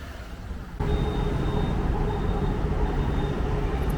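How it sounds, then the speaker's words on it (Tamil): A metro train passing overhead on an elevated line in Tiruvotriyur, North Chennai, heard from street level as a loud, steady rumbling roar that swells in suddenly and holds, mixed with traffic noise and a faint thin whine. "மேலே மெட்ரோ போகுதுங்க, சவுண்ட் கேட்குது."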